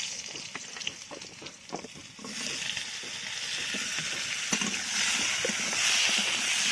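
Papaya pieces fry in oil previously used for fish and potatoes, starting with a softer sizzle and a few clinks, then swelling into a loud, steady hiss for the rest.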